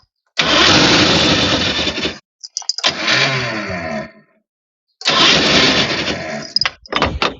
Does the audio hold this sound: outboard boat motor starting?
yes